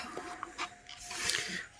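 Rapid, breathy panting from a person winded after chopping onions, several short close gasps over a faint steady whine in the background.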